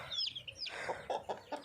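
Chickens cluck in a homemade brooder, with several short, close clucks and chirpy calls that come in quick, uneven bursts and are fairly quiet overall.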